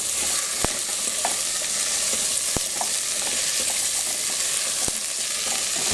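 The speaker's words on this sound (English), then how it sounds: "Then I'm going to add my potatoes. Give it a quick stir." Potatoes are stirred into a potato curry frying in a pan, with a constant close sizzle and a few sharp spoon taps on the pan's rim.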